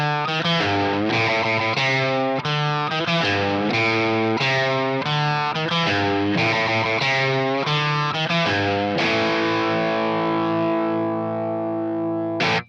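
A mid-range Telecaster-style electric guitar with pushed overdrive that stops short of extreme plays a run of rhythmic distorted chords. The last chord rings out and fades, loud and close, with no one talking.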